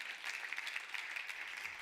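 A church congregation applauds at a Friday evening service, a faint, steady patter of clapping from a crowd at a distance.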